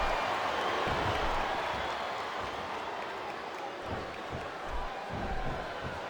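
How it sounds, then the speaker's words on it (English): A wrestling crowd in the WWE SmackDown vs. Raw 2007 video game sends up a continuous wash of cheering and applause at moderate level, with occasional low thumps underneath. "I think these superstars are getting some feedback from the crowd"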